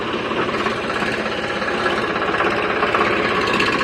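A tractor engine runs in a farm field during mustard and gram sowing, a loud, close, steady rhythmic chugging with a rattling knock throughout.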